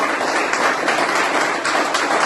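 An audience at an achiever program event applauds with dense, steady clapping that fills the room for a couple of seconds, loud and close with no speech over it.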